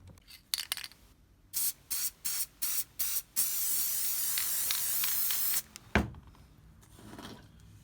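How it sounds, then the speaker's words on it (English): Several short bursts from an aerosol spray can on a 1/35 scale Marder III armor model kit, then one long continuous hiss, followed by a sharp knock and quieter rustling. "So let's give this a spray"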